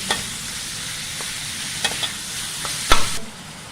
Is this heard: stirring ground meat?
yes